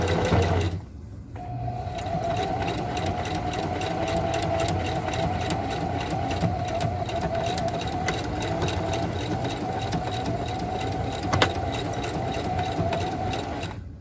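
A sewing machine stitching a day pack, zipper included, runs steadily for a long stretch, its motor whirring with a fast, even mechanical stitching rhythm, close and fairly loud.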